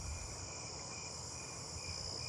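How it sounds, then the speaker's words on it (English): A two-spotted tree cricket trills steadily nearby, a continuous high, even drone running alone through the whole stretch over a faint low background. "I hear another two spotted nearby."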